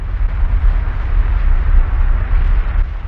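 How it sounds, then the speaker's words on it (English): Continuous deep rumbling blasts of TNT explosions in the video game Minecraft, heavy low-end booms rolling together without a clear break, loud and close. "Oh, wow, there's explosions all around."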